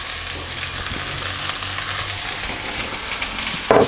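Olives, capers, tomatoes and pine nuts fry in a pan with a steady, close sizzle and crackle, ending in a brief clatter near the end.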